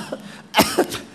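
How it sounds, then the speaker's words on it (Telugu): Two or three short, dry coughs from a man preaching a sermon, in quick bursts close to the microphone with quiet pauses between them and no talking. "ఒక చిన్న దగ్గు వచ్చింది అనుకో"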